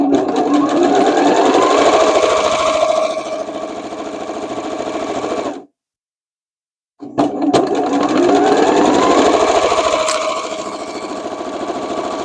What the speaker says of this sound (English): So I'm going to continue doing all my vertical seams, and then I'll do my horizontals.